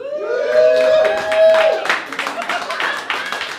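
An audience at a live comedy open mic applauds and cheers for the host, a steady clatter of clapping mixed with whoops and raised voices that stays close and lively throughout.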